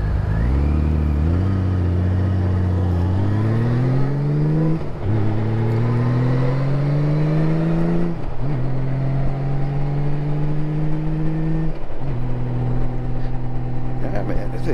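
A Honda Valkyrie motorcycle on a test ride, its engine droning loud and close while rising in pitch through each gear, with clear dips at the shifts, carrying on steadily throughout.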